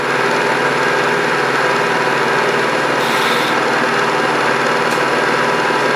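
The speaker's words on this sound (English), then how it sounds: "I'm using a 1/2-inch end mill" A milling machine cuts a T-nut stock with a 1/2-inch end mill, a steady dense mechanical whir and cutting noise running continuously and loud throughout with no voices.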